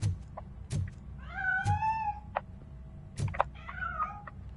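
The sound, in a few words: cat meowing in Robocop video game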